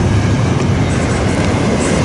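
A train rolls past on the rails close by. Loud continuous rumble and clatter fill the whole stretch with no pause.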